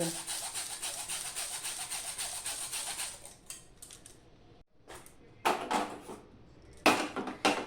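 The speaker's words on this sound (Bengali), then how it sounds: "আমি প্রথমে কড়াইতে এইভাবে পাটলি বুটটা গ্রেট করে নেব" Palm jaggery (patali) is grated with a hand grater straight into a wok: a steady run of close, raspy scraping strokes for about three seconds, then a few separate scrapes with short pauses between them.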